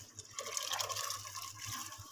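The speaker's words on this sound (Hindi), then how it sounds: "अब ये देखें मैं इसमें पानी डाल के डालने लगी हूँ" Water is poured into a pot of soaked lentils, a soft, faint trickle and splash lasting a couple of seconds with no speech.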